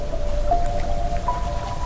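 Heavy rain pouring, a constant dense hiss of drops on surfaces, loud and close, with a faint thin tone running through it and no voices.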